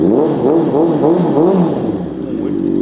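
A Honda CB650F motorcycle exhaust revs in repeated wavering pulses, loud and close, then drops back to a steady idle.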